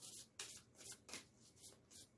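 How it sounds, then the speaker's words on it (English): A deck of Vimala Rogers handwriting cards is shuffled by hand: soft, quiet riffling bursts repeat in an uneven rhythm, close and alone, with brief pauses between each flurry. "I'm going to shuffle these Vimala Rogers cards for you."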